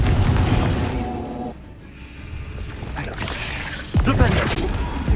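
Confringo spell blasts in Hogwarts Legacy on hard mode: heavy crashing booms and rumble, a quieter lull, then a sharp loud impact near the end, all thick with layered game combat sound.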